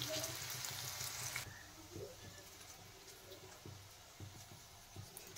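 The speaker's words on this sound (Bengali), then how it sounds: "দেখেন করলা খুব সুন্দর ভাজা হয়ে গেছে, আর একটু ভাজবো।" Bitter gourd (karela) pieces frying in oil in a pan, a steady soft sizzle that quietens after the first second or so, with a few light stirring clicks and knocks toward the end.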